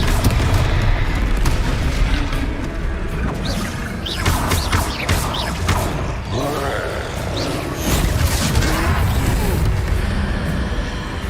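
Confringo fire spells burst in the Hogwarts Legacy video game during a fight with a troll, a dense run of loud booming blasts and crashes layered with grunts, steady and close for the whole stretch.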